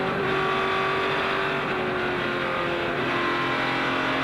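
From on board Bill Elliott's NASCAR Winston Cup race car at the 2002 Daytona 500 at Daytona International Speedway, the engine holds a loud, steady high-revving drone, close up and unbroken.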